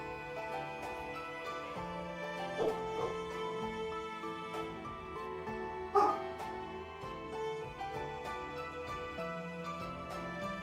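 A dog barks in a video game, with a few short, faint yips popping up over steady background music.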